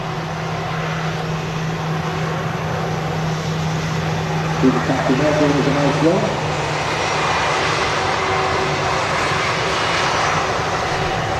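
A Jet2 Airbus A330 jet at Manchester Airport roars with a steady broadband engine rumble that swells gradually, while someone talks briefly over it.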